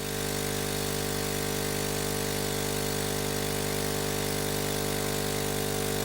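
An air assist pump for a laser engraver hums steadily inside soundproofing, a constant muffled mechanical drone that stays even and continuous throughout with no talking.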